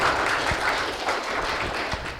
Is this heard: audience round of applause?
yes